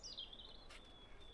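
A chaffinch sings in a wet Norwegian forest, its faint, thin chirps and a short trill standing alone in quiet, distant woodland air.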